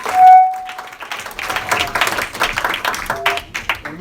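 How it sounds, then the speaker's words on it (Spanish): A church congregation applauds in praise, with scattered clapping that rises after a brief tone and continues unevenly, mixed with some voices. "Un fuerte aplauso a nuestro Dios."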